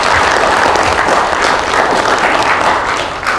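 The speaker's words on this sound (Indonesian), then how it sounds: "Boleh tepuk tangan untuk beliau." Loud, dense audience applause at a regional coordination meeting in Surabaya, continuous and even across the clip before easing slightly at the end.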